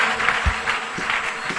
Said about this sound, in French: applaudissez très fort le Seigneur.